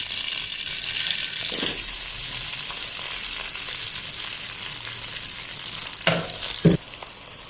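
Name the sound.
onions lightly frying in ghee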